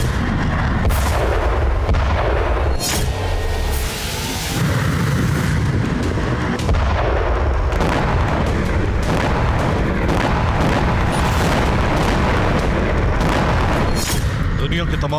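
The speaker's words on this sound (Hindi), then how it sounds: "अमेरिका ने अब तक की सबसे घातक और सबसे विनाशकारी मिसाइल का टेस्ट किया, वो भी ब्लू वॉर जोन में।" Hypersonic missile test launch in a war zone: loud, continuous booming blasts and rumbling bursts fill the whole stretch, dense and close, with a voice running over them.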